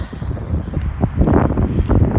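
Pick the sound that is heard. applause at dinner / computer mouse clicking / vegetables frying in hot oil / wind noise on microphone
wind noise on microphone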